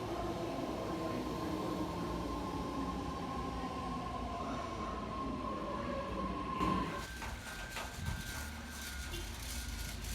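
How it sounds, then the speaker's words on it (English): A BART subway train in the San Francisco Bay Area gives a steady, loud rumble with a sustained tonal whine that shifts partway through, with no voices. "the Bay Area Rapid Transport System, or BART for short, is an extensive subway system that runs across much of the Bay Area"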